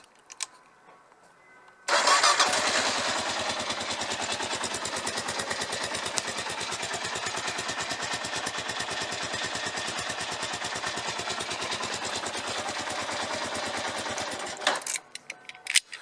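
Motorcycle engine cranked with a switchblade key fires up after a couple of seconds and runs at a steady, rapid idle putter for about twelve seconds, close and loud, then cuts off, with no talk.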